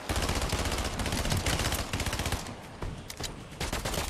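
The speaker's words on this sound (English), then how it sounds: "They got a drum shotgun." Rapid, loud bursts of drum-fed shotgun fire from a video game shooter hammer out in dense succession, tapering off and then resuming in sharper scattered blasts near the end.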